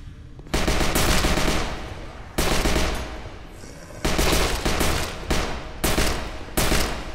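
Rapid automatic gunfire from a VR zombie shooter, HordeZ, in five long loud bursts separated by brief pauses, close and dominant with no talking.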